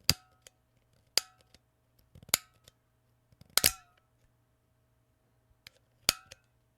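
Someone repeatedly clicks the ignition button of a lighter with a broken knob. About six sharp, close clicks come at irregular intervals, with faint ticks between them and quiet stretches, no talking.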